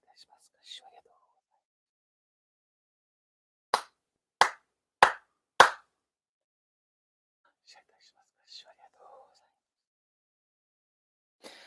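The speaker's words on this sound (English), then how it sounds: "4 sincere claps." Four sharp ceremonial hand claps ring out in a Shinto prayer service, evenly spaced and loud, with hushed quiet before and after and faint murmuring voices around them.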